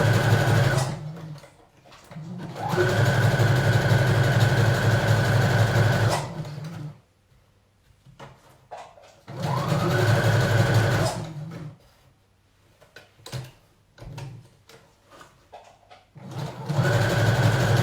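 Sewing machine stitching jersey fabric for a pleated skirt: a steady loud mechanical whir in two long runs of several seconds each, separated by quiet pauses with light handling noise, close by.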